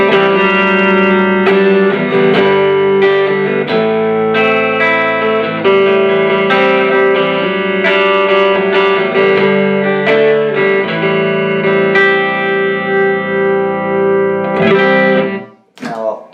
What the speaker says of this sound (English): So first of all, starting clean on the Strat, neck pickup